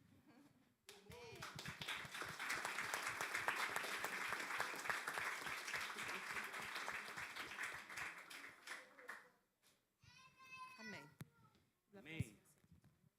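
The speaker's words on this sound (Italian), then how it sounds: "Applaudiamo ancora una volta il Signore" A church congregation at a Sunday service applauds loudly for several seconds, a dense wash of clapping that fades out, followed by brief speech and a voice nearby.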